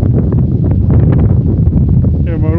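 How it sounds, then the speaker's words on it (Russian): Strong gusty wind in a storm on the Chatyr-Dag mountain plateau in freezing weather, a loud low roar buffeting the microphone continuously, with a voice briefly heard near the end. "еще и ветер шпарит."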